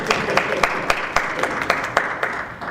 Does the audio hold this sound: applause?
yes